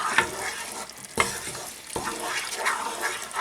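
Masala for rajma being mixed in a hot pan, continuous sizzling and frying with several scraping strokes of a spoon, up close and fairly loud.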